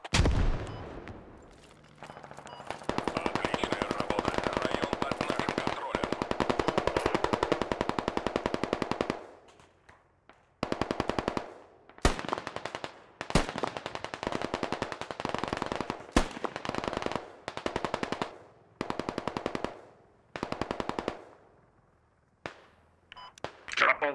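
Sustained machine gun bursts in the military shooter Squad, loud and close, long continuous strings broken into shorter stuttering volleys, with occasional talk underneath.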